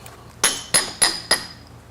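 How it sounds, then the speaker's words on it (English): Four sharp metallic hammer taps knocking a saw block backward or forward, evenly spaced and close by, with a faint clink ringing after each strike. "Let me get a hammer and do that a little bit."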